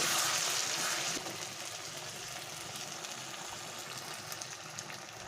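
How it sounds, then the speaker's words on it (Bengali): Water poured into a pot of chicken curry, a loud hissing rush for about a second that settles into a steady bubbling simmer. "পরিমাণ মতো জল দিয়ে দিলাম"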